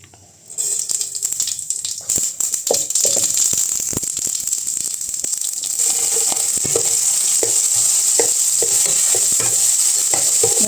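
Mustard seeds frying in hot oil for a Tamil lotus stem fry, giving a steady bright sizzle that runs throughout after a quiet start, with scattered crackles and pops and some stirring rattles close by, no talking.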